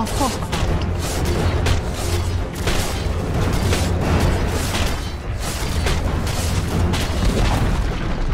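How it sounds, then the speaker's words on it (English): A tower collapses in the video game Dota 2 with a dense, continuous rumble of booms and crashing impacts that fills the whole stretch at a loud, even level. "Dire's middle tower has fallen."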